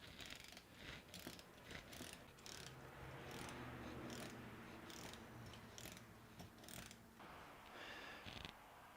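Nuts are tightened down on washers while assembling a DIY camera crane, making a run of close ratcheting clicks and metallic scraping, with bursts of sharp taps through the middle and end.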